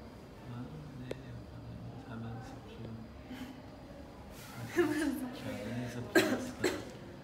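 During a medical exam a child produces a few short, breathy coughs and snorts near the end, close to the microphone, with faint voices and room sounds before them.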